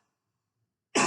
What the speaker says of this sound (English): Beware the cough.